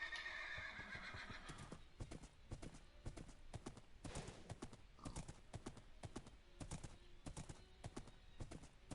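A horse in the Minecraft video game whinnies over repeated clip-clop hoofbeats, with further neighs and steps scattered through the clip against a steady background hum.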